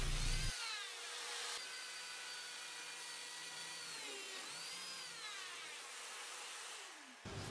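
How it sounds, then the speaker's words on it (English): A Lamello biscuit joiner cutting a groove along the side of a shelf for a built-in bookcase gives a steady, loud, high-pitched motor whine lasting about seven seconds, alone and without speech. "use the lamello to create a groove along the side of the shelf"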